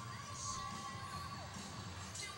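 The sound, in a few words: crowd cheering at a women's gymnastics meet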